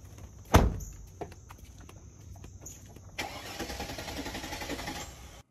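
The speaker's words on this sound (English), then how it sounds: "It didn't even sound like the car started." A car door thuds shut, followed by a few faint clicks, then a car engine starts and settles into a steady idle hum near the recorder.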